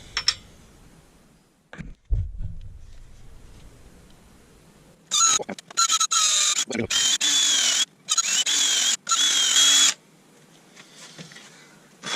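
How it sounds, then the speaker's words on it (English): A power drill whines in several loud bursts, biting into a laburnum wood bowl blank with high-pitched squealing, separated by brief pauses and quiet handling noises. "make some marks for the purpose of drilling"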